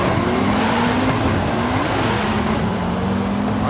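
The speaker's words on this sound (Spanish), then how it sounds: "hay que acelerar a tope, lo tengo en transmisión manual" A 1987 Buick Regal GNX with manual transmission roars at full throttle in the racing game Forza Horizon 5, with a loud, steady engine drone and slowly rising pitch throughout.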